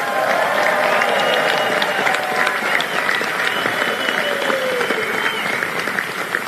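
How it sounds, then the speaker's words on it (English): Sustained applause fills a large banquet hall at the Al Smith charity dinner, loud and dense clapping from a big crowd carrying on steadily throughout. "Can we have a round of applause for First Lady Melania Trump?"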